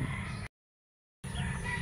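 Farm chickens clucking and calling in a coop, a short burst of fowl sounds, then a gap of silence before the birds resume at moderate level.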